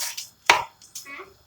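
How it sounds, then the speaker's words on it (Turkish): A few sharp knife chops through onions on a cutting board, close and crisp, spaced irregularly with quiet gaps between strokes. "şimdi de soğanlarımı doğruyorum"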